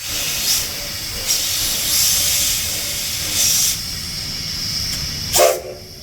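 Steady loud steam hiss from Sierra Railway No. 3, a 4-6-0 steam locomotive, with several sharper bursts of venting rising above the continuous roar.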